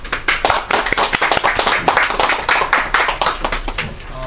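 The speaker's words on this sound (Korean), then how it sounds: "뜨거운 박수로 교수님 맞아주시기 바랍니다." Lecture audience welcoming a professor with close, brisk clapping from a small group, the individual claps distinct and dense throughout.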